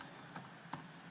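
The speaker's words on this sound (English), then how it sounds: "when I'm typing this" Typing on a computer keyboard, a few soft, quiet keystrokes spaced apart in a quiet room.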